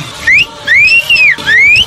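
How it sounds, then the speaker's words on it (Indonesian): Sharp rising and falling whistles sound as a signal in an Indonesian radio drama, three loud close tones in a quick series with brief gaps between them. "Apa yang sedang kau kerjakan dengan siulanmu? Kau sedang minta bantuan."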